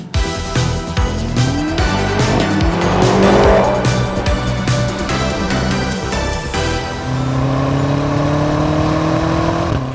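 A 2020 BMW X5M Competition launches hard using launch control. The engine roars close by and loud, climbing through rising gear sweeps with a gear change partway, then settles into a steady high-revving drone.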